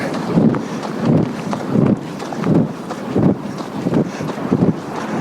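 Gusty wind on a flat Mediterranean beach during a run, buffeting the microphone in rhythmic surges that swell and fade roughly every half second to second, loud and close.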